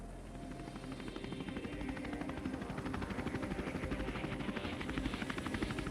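A medevac rescue helicopter on a callout for a snowmobiler who drove off a cliff flies steadily overhead, its rotor thudding in a continuous rapid pulse that stays loud throughout with no voices.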